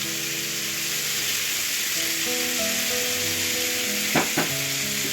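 Grated ginger sizzles in a frying pan for a chicken dish, a constant close hiss with a faint background hum, then a couple of sharp clinks of a utensil near the end.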